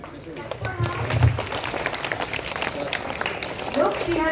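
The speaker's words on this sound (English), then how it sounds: "Clap a lot." An audience at a school assembly breaks into sustained applause that swells and stays dense, while a voice speaks over the clapping.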